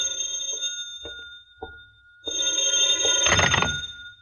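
An old-time telephone rings from a house in town in a 1951 radio drama: a few short separate rings, then a longer, louder sustained ring near the end, heard alone without talk.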